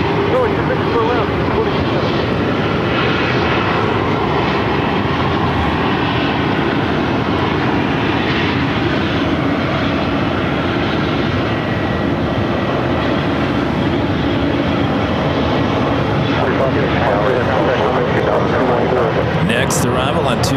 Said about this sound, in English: Southwest Airlines 1324 coming in from Spokane on a 737 MAX 8